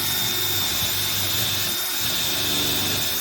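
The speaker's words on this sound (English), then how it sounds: "let's drill our last hole over here" A power drill bores a hole in wood, with a steady, loud whine and grinding that runs throughout, close by and without speech.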